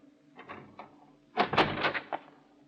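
A door opening as a radio drama sound effect from 1946: a few soft clicks of the latch come first, then a louder creaking swing close at hand, heard alone with no voices.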